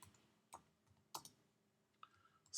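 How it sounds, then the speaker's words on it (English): Several separate key clicks on a computer keyboard, spaced out rather than in a fast run, fairly quiet in a still room with no talking. "let's type this in"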